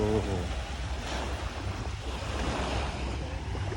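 Sea waves wash steadily onto Chaweng Beach on Koh Samui, a continuous surf rush mixed with wind buffeting the microphone, fairly close and moderately loud.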